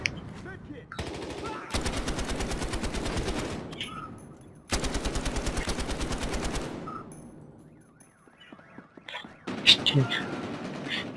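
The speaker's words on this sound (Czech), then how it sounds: "Vezmeme si kulomet a zkusíme jim tam udělat trošku nepříjemno." Machine gun fire in the video game Battlefield: Hardline comes as two long, loud bursts of rapid, evenly spaced shots, followed by quieter scattered game sounds.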